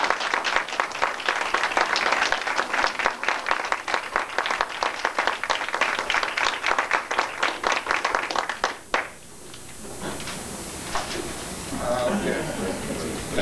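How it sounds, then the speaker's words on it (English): A meeting audience in Ossining, New York gives a large round of applause, dense loud clapping for about nine seconds that then fades into scattered claps and room murmur. "Let's give her a large round of applause."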